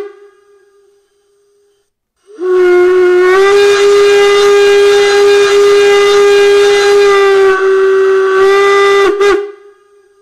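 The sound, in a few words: long steam whistle from model steam locomotive sound module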